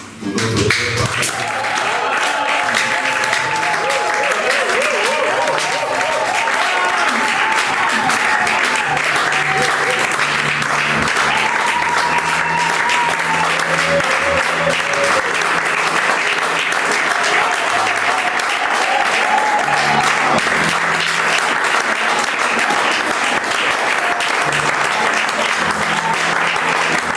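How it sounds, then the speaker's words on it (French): Congregation at a church worship service applauding and cheering continuously, a dense steady wash of clapping with voices and shouts of acclaim mixed in, loud and sustained throughout. "que vous puissiez acclamer pour notre Père"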